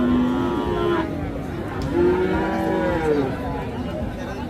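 Crossbred calves at the Hazratpur cattle market give several drawn-out moos close by over a busy market murmur.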